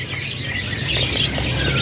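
Caged canaries at a bird market sing, their bright, rapid chirps and twitters overlapping continuously at close range, with no talk over them.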